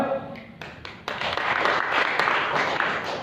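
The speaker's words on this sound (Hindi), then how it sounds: "उसके लिए भी ताली बजा दो, बजाओ" Church congregation clapping together, starting with a few scattered claps and swelling after about a second into steady, dense applause that fills the room.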